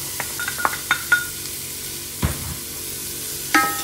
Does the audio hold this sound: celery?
yes